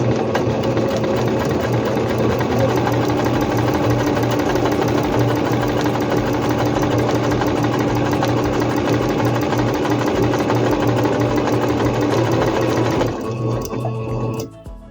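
A Singer C5605 electronic sewing machine stitches a seam with thread tension set to zero, whirring steadily and loudly up close for about thirteen seconds before slowing and stopping.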